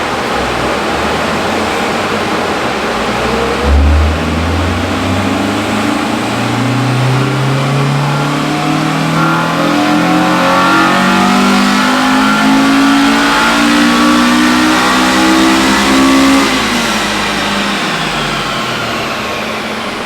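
An EM1 all-motor car engine revs on a dyno during a pull, winding steadily upward in pitch for about twelve seconds to a loud, strained peak before easing off, close and continuous with no talk.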